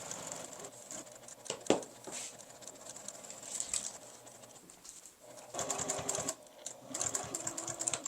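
Sewing machine stitching fabric for a glasses case at a 2.5 mm stitch length, with bursts of fast, close mechanical whirring broken by short pauses for backstitching.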